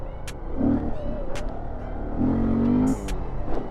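A small Honda Grom or Kawasaki Z125 motorcycle engine revs close by in two rising throttle blips, a steady buzzing drone in between, during a stunt riding session.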